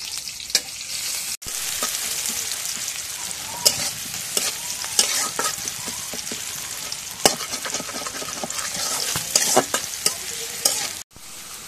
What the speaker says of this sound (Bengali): তরকারির মধ্যে পেঁয়াজ দেওয়া হয়ে গেছে।